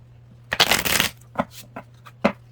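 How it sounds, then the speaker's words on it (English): A deck of tarot cards is riffled and shuffled in one long, close burst, followed by a few shorter shuffling snaps, with a low steady hum underneath. "So I'm gonna get it out, knock it real quick, and shuffle."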